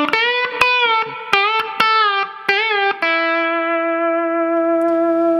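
Electric guitar lead phrase, played with effects: a run of sharply plucked, sustaining notes in an uneven rhythm, ending on one long ringing note that fades slowly, alone.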